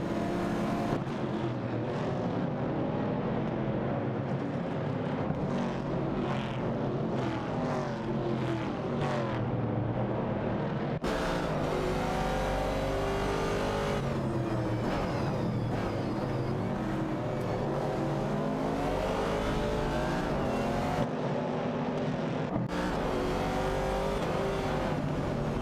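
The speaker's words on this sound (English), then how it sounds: "The classic muscle cars, Chevrolet Camaro 70 and Ford Mustang Boss, are neck and neck as they navigate the track." In a racing video game, a Chevrolet Camaro 70 and a Ford Mustang Boss roar steadily and loudly side by side, engines droning and revving with occasional shifts in pitch.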